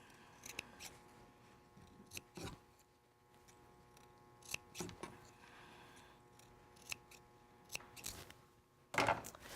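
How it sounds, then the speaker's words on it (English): A pair of scissors snips into fabric at a shirt's neck several times in short, crisp bursts spaced a couple of seconds apart, close by in a quiet room. "we're going to take our scissors and we're going to just clip it right in at the neck"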